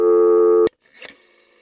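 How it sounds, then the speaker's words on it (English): Steady telephone dial tone on an old phone line that cuts off abruptly after the first digit is dialed, leaving a faint click and quiet line noise. "You'd always get a burst of dial tone after the first digit you dialed."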